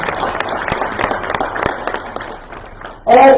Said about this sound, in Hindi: एक बार सभी के लिए और अपने लिए भी जोरदार तालियां आप।